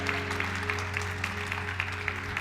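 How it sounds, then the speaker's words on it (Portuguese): Church congregation applauding during a sermon, a steady, moderately distant wash of clapping over a low hum of the hall. "Você pode dar um aplauso a Ele e dizer glória a Deus."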